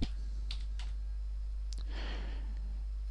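A few faint, scattered keystrokes click on a computer keyboard as the word GeoGebra is typed, over a steady low hum.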